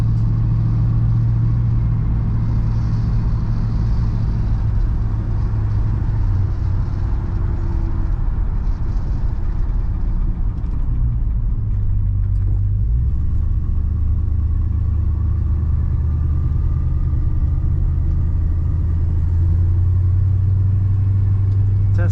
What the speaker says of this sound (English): Here we are in a 63 Ford Galaxie, taking her out for a little drive.